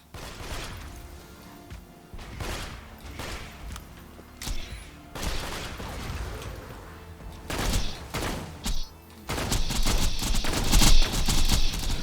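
Corrosive Pimpernel sniper rifle shots in Borderlands 2, fired alongside the Corrosive Bone of the Ancients: repeated sharp, loud blasts at irregular intervals amid dense game effects, getting busier and louder toward the end.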